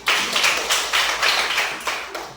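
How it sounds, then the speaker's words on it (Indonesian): A classroom group clapping hands in a quick, fairly even burst of claps, close and clear, with no talking over it. "Tepuk tangan dulu."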